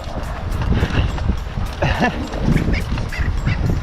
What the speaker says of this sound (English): Let me see if I can chase this guinea fowl.